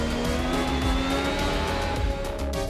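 Formula 1 2020 Ferrari mod car in Assetto Corsa lapping the Jeddah track, a steady high engine whine with shifting tones, loud and close from start to finish, alone without talk.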